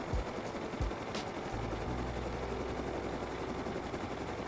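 A minicopter in the game Rust flies by with a steady, faint engine-and-rotor drone that settles in after a few soft thumps at the start.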